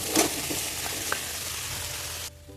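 Soybeans frying in a pan with onion paste and spices such as dried fenugreek and garam masala, giving a soft continuous sizzle with a few brief stirring scrapes before the sound cuts off abruptly near the end.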